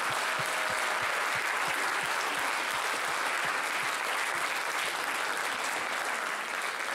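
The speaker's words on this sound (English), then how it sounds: "give a huge round of applause to my administrative coordinator, Sue Culbertson" Audience applause at a high school scholastic awards ceremony, a broad, steady patter of many hands clapping at moderate distance, continuous for the whole stretch with no talk.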